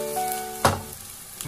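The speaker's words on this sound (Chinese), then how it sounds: "把茄子再煎个20秒" Eggplant pieces pan-fry in oil with a close, steady sizzle, broken by a sharp clatter partway through as the pan is moved and a smaller knock near the end.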